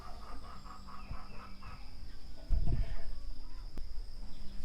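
Chickens in pens on a homestead cluck and coo softly, with a brief louder low flutter or thump partway through, over a faint steady background hum.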